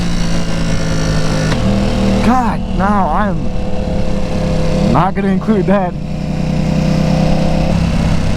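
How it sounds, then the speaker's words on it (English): A motorcycle with an aftermarket Akrapovic exhaust rumbles steadily with a deep exhaust note, loud and close, while someone talks over it in short bursts. "His exhaust sounds really good."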